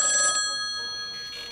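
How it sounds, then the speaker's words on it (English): A telephone bell rings in a short metallic burst, then fades and rings again faintly, with no voices over it. "You hear the phone? Yep, I hear it."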